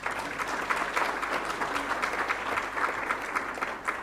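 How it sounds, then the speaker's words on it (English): An audience at a university ceremony claps in sustained, even applause, a dense crackle of many hands heard from within the room for the full four seconds. "I first would like you to give yourselves a round of applause."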